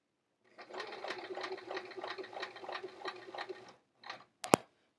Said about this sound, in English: I'm gonna sew the bottom edge again,